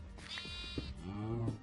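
Sheep in a survival video game bleat loudly and close, with two drawn-out wavering cries in quick succession and no talking.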